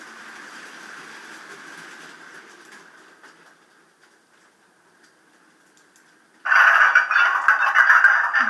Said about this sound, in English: there's wagon clanging.